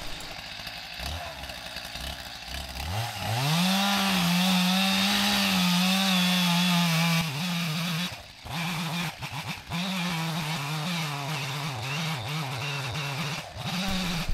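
A Stihl chainsaw revs up and bites into a wind-felled pine, its engine droning loud and steady with the pitch dipping under load, then cutting again after a brief break.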